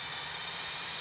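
A roaring jet engine sound effect from a Southwest Airlines summer sale radio ad plays as a steady, loud broadband whoosh, with no talk.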